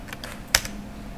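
A couple of computer keyboard keys pressed while working in AutoCAD, soft clicks followed by one sharper, louder tap, with no talking.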